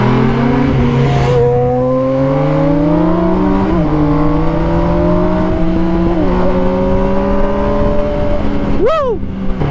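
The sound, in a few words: big bike motorcycle engine revving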